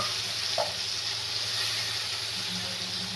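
Boiled potatoes hit a hot tempering and sizzle, a constant close frying hiss with a faint low hum underneath and a small clink near the start, no voices.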